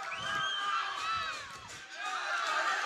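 Spectators at a varsity high school baseball game between Belen Jesuit and G. Holmes Braddock cheering and shouting from the stands, a steady distant wash of crowd noise that swells again near the end.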